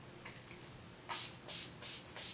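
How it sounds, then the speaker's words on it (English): Urban Decay Chill makeup setting spray misted from a pump bottle, four short, soft hissing spritzes in quick succession, close and alone in a quiet room. "I'm just going to set my face with a little of Urban Decay Chill Makeup Setting Spray."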